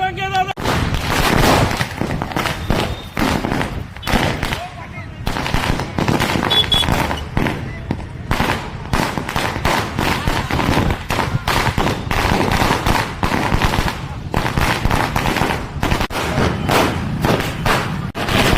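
Rapid, loud crackling bursts of firecrackers go off almost continuously at a Maratha community celebration in Kavathe Mahankal, with dense overlapping pops and thuds and no clear gaps throughout.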